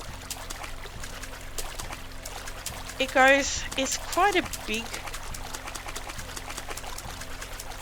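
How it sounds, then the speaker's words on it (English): Water trickling and pouring steadily in a rocky spring in the video game Survive The Wild, a soft continuous flow behind someone talking, with a brief louder melodic burst in the middle. "So now you can probably hear that we're in this spring. The bottom of the rocky spring."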